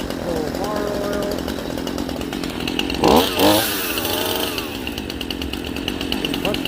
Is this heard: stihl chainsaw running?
yes